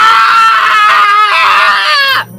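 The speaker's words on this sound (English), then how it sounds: "he gets so excited he runs around town screaming and telling everyone" A man screams in a loud, high, drawn-out wail lasting about two seconds within a radio commercial, sounding close and strained before cutting off abruptly.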